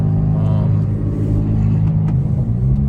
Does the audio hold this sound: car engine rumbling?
yes